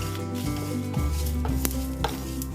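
Sesame, cumin and fennel seeds dry roast in a pan over low heat, giving a soft crackling sizzle with light scraping and stirring sounds against a faint background hum.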